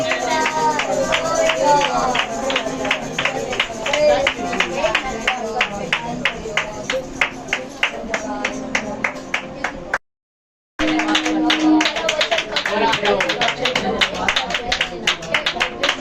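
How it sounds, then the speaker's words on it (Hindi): A church congregation at a revival meeting claps in a steady, fast rhythm for a long stretch, with voices going on over the clapping and one brief break. "हम ताली मार के वचन के लिए धन्यवाद आगे बुलाएंगे"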